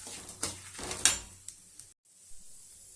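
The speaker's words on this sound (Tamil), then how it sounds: "எடுத்து வச்சுருந்தோம்ல அந்த புளியும் சேர்த்தி நல்லா வறுத்துக்கலாம்." Toor dal and tamarind being dry-roasted in a pan for thuvaiyal, with soft scraping stirs and light clinks of a utensil against the pan, then a quieter stretch of faint sizzle.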